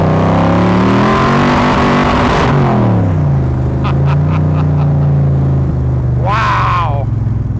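A 1965 Shelby Cobra Backdraft engine revs at half throttle, a loud, deep, continuous roar rising and falling in pitch, with a brief higher whine near the end and speech over it.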